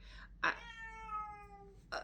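A house cat gives one drawn-out, falling meow, framed by a couple of short, soft chirps nearby in a quiet room.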